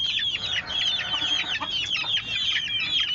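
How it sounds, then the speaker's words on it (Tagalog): Chicks peep and chickens cluck steadily in a small backyard poultry pen, a dense chorus of close, high chirps with no talking. "Ito na yung mga sisiw natin."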